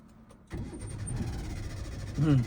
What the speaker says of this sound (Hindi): अब इंजन ऑन करो